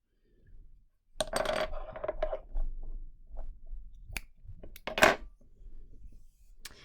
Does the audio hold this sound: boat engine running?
no